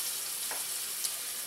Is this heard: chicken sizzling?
yes